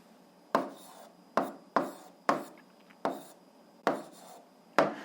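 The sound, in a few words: writing the answer down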